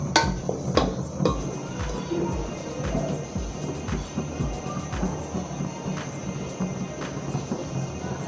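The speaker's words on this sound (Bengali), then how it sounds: "খুলে আমি পোলাওটাকে নেড়ে দিলাম।" Pulao rice being stirred in a cooking pot for beef biryani: repeated clanks and scrapes of a spoon against the metal pot, an irregular series of knocks over a low background rumble, close up and with no talk.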